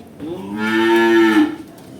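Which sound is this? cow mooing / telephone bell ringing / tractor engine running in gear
cow mooing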